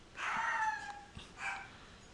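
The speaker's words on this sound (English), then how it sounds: "pardon that dog" A dog lets out two whining, yipping barks nearby, a longer drawn-out one followed by a shorter one, against a quiet indoor background.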